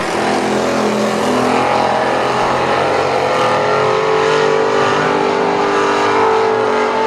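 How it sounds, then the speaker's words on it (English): Dirt track race cars at a Saturday night Gator Dirt National program, loud engines roaring and revving continuously as they race around the track, close and steady with rising and falling pitch. "Coming to the white flag, 5 in the books. Last lap for Josh Howell, Gary Lippincott."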